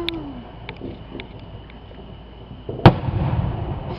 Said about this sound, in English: Come on, what are these fireworks?